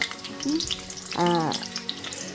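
Gooseberry pieces for pickle frying on low heat in a pan, a soft continuous sizzle with scattered bubbling pops and a brief tonal squeak midway.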